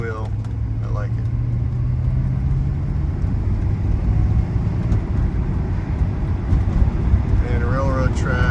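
A 1976 Mercedes 450SE rolls over railroad tracks, its steady road and engine rumble filling the cabin up close, with a voice briefly at the start and end.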